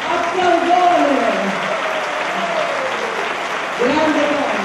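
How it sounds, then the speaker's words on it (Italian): Audience applause for a singer at a national festival of dialect and folk song, steady and loud for the whole stretch, with a voice speaking over the clapping and a fresh swell near the end. "Applausone!"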